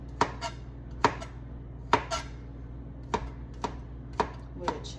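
A Time and Table kitchen knife chops food on a board while cooking Sunday dinner, sharp knocks landing at a steady, unhurried pace, about one per second, close and clear over a faint background hum.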